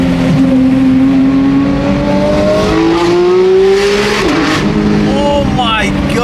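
Ferrari engine screaming up to 9,000 RPM through downshifts, loud and close with rising and falling pitch sweeps as gears change, heard from inside the car.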